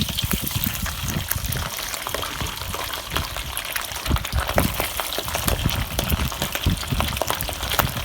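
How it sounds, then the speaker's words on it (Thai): Glass catfish fry in hot oil with a dense, continuous crackling sizzle, close and steady, with sharp pops scattered throughout. "ก็จะมาทอด ปลาเนื้ออ่อนนะคะ"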